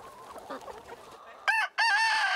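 Hens on a small organic farm with under 500 birds cluck and murmur in a soft, busy layer, then a rooster lets out two loud, close crows near the end.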